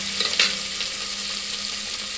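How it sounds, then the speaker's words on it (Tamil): Green chillies, curry leaves and coriander sauté in hot oil, making a brief, loud, bright sizzle with a sharp crackling burst near the start, then a steady hiss close by. "பச்சை மிளகா, கருவேப்பிலை, கொத்தமல்லி கொஞ்சம் போட்டுக்கலாம். இது நல்லா வதக்கட்டும்"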